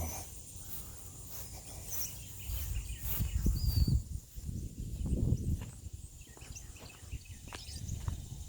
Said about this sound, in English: Birds sound happy this morning.